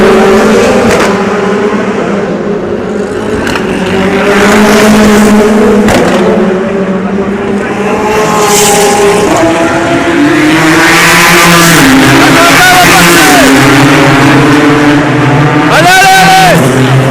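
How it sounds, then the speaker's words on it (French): Race cars at the 2016 24 Hours of Le Mans, including the number 6 Toyota, roar and whine past at full speed, with engine pitch rising and falling under continuous excited commentary. "La Toyota numéro 6 passe à l'attaque."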